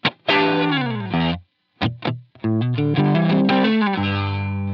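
Electric guitar through a Line 6 Helix with a wah pedal in the heel-down position, darker and filtered, playing a few chords and single notes with short gaps, then ringing out into sustained strummed chords.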